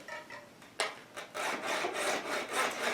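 A handsaw cuts through a wooden ball for a Christmas topiary, rapid rasping strokes in a quick back-and-forth rhythm, close and fairly soft, with no talking.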